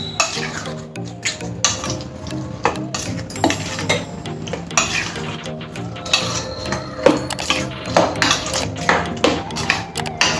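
A spoon stirs tempering into curd for cucumber yogurt chutney in a pan, with repeated close metallic clinks and scrapes against the pan in an irregular rhythm.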